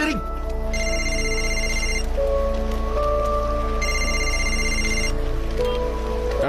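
A telephone rings in two long bursts of bright electronic trilling, with a steady patter like rain and a low hum underneath.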